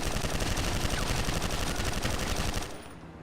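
Rapid automatic gunfire in a GTA roleplay shootout, a dense, loud stream of close shots rattling almost continuously for nearly three seconds before stopping abruptly.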